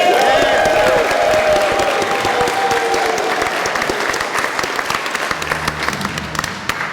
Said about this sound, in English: can I get a round of applause for my beautiful wife?